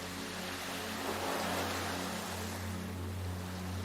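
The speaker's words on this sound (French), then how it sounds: "Les vagues continuent leur danse éternelle. Leur son régulier vous berce." Ocean waves wash onto a beach in a soft, steady hiss of surf, faint and even, with a low steady hum underneath.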